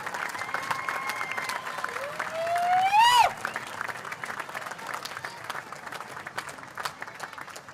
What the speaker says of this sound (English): let's have one last round of applause for all of our inductees